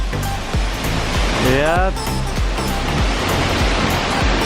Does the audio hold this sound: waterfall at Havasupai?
yes